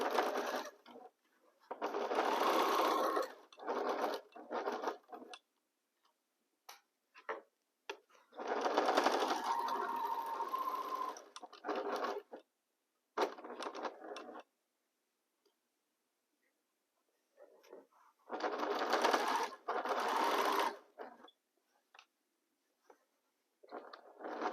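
A sewing machine joins the first two rows of a Woven Star quilt block in three long, loud, steady runs of stitching, separated by quiet pauses and short stop-start bursts.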